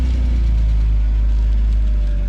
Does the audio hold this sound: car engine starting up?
yes